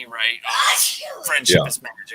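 A person sneezes once, sharply and close, in the middle of a relaxed conversation; voices talk before and after it.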